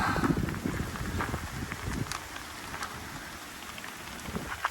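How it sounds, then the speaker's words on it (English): Steady rain falls on a surface as a continuous, soft patter of drops. It stays fairly quiet and even, with a few louder drops near the start and no talking. "Then the rain came."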